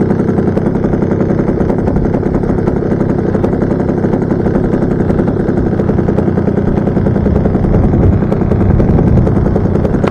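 The engine of an RC tow plane for towing gliders warms up on the ground, a loud, steady, buzzing drone that holds its pitch throughout with no pauses.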